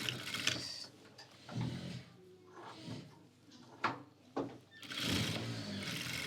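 Short, intermittent runs of a sewing machine stitching a seam on a pheran, with quieter handling sounds in between.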